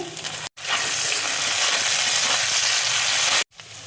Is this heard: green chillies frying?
yes